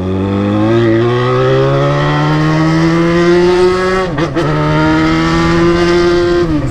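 A Jaguar XJ6 engine revs up loud and close, its pitch climbing steadily through a long pull, dipping briefly at a gear change before rising again, with no voices heard.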